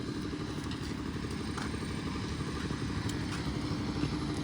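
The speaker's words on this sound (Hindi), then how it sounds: "ଗୋଟେ ଥର ୟାର ଏକ୍ଜଷ୍ଟ ସାଉଣ୍ଡଟା ମୁଁ ଆପଣଙ୍କୁ ଶୁଣେଇ ଦିଏ" A Yamaha R15 V4 motorcycle fitted with a loud aftermarket exhaust idles nearby with a steady, throbbing low rumble and a faint mechanical clatter, holding an even tone throughout.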